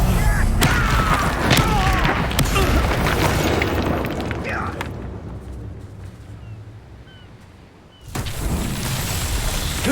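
Confringo fire spell explosions in the video game Hogwarts Legacy: a loud, roaring blast that rumbles and slowly fades over several seconds, then a fresh burst erupts near the end.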